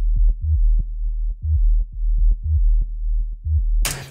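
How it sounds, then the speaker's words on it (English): A deep, smooth sine-wave synth bass tone for deep house, pulsing in short repeated notes with a soft attack, clean and low, ending in a brief burst of noise. "If I'm just using a sine wave, it sounds like this."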